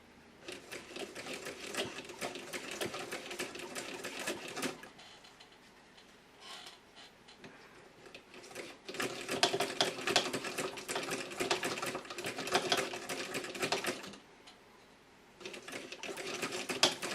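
Toy Singer sewing machine stitching fabric with rapid, dense mechanical clatter in close bursts, pausing briefly around five and fourteen seconds before resuming.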